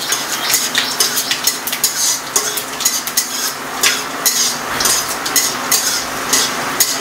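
Panch phoron spices frying in oil in a pan and stirred with a utensil, repeated scraping and clinking strokes over a constant sizzle, close and fairly loud.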